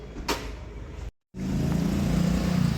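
Motorcycle riding through a quiet cantonment area, a steady engine drone building after a brief cut, with a short sharp noise near the start.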